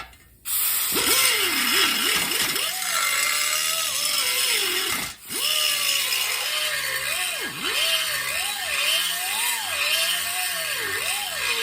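Power tool enlarging holes in a metal clutch pedal assembly for a 1969 Firebird four-speed conversion, with a whining motor that repeatedly bogs and recovers as it cuts, and a brief pause near the middle.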